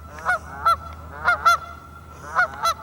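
Geese honk loudly nearby in repeated pairs of harsh, nasal calls, spaced with short pauses between bursts.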